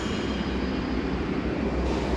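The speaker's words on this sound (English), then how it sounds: "Look at that train." A train roars past nearby in New York, a dense, constant rumble with rattling undertones, loud throughout with no speech.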